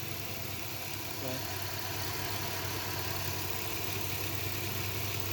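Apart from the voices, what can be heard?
car engine idling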